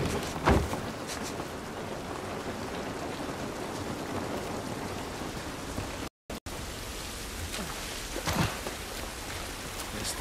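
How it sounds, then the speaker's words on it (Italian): Steady rain falls throughout in The Last of Us remake, a dense hiss of drops with a few louder splashes, continuous and fairly close, briefly cutting out once. "Questa pioggia non va bene."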